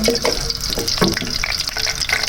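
Whole cumin seeds and black pepper roast in hot oil for a namkeen mash daal, giving a soft crackling sizzle with stirring clatter close by.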